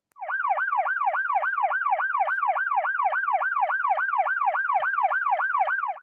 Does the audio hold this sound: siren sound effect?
yes